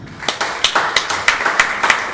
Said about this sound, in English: give them a very big hand clap